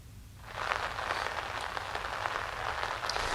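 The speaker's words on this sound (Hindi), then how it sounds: "बारिश शुरू हो गई, आप अम्ब्रेला लेकर, छाता लेकर खड़े हैं?" Steady rain starts after a brief quiet moment and settles into a continuous, moderately loud patter of drops on surfaces outdoors, with no talking over it.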